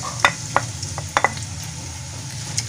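Garlic and onions drop into hot cooking oil and sizzle steadily, with a few sharp clinks of a spoon stirring the pan over the soft frying hiss.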